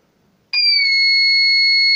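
An electronic buzzer on a substation monitoring circuit starts abruptly and holds a steady, piercing high-pitched tone for over a second, loud and unbroken, sounding as the monitored frequency exceeds 50.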